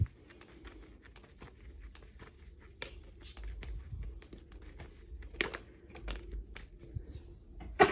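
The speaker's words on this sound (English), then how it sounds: "Let me shuffle here on camera." Tarot cards are shuffled by hand at close range, giving soft irregular riffles, flicks and taps scattered through an otherwise quiet room.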